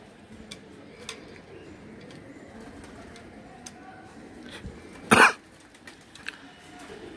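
Giribaz high-flyer pigeons kept at a breeder's loft coo softly and steadily against a low background murmur, with one sharp cough-like burst near the end.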